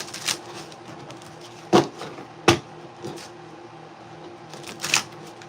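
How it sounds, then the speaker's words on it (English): A few sharp riffling bursts of cards being shuffled, separated by quieter stretches with faint background rustle. "That was not a good shuffle at all."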